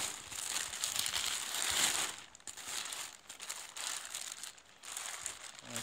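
A crinkly plastic bag holding glow sticks is handled and opened up close, with continuous crackling and crumpling rustles throughout.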